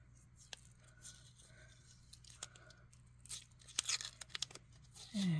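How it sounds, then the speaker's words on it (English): Tape is peeled and torn off the back of a cast resin ghost pumpkin piece, giving faint crinkly rips and scratches that build into a louder tearing burst at the end. "Now I just got to get this tape off the backside."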